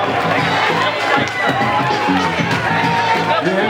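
A boxing crowd in St. Louis cheers and chatters after a bout, a loud, dense roar of many voices with whoops rising and falling throughout.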